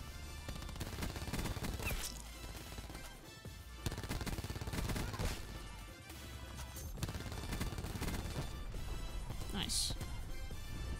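Rapid gunfire from a Spitfire fighter plane in a chaotic multiplayer video game match, loud bursts repeating across the whole stretch over dense game noise and music, with a voice talking underneath.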